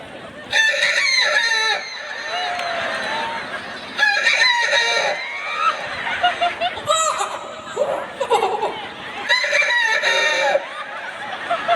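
At an election campaign rally, a person imitates a rooster's crow several times in bursts, loud and close, with short clucking noises and a little laughter between the calls.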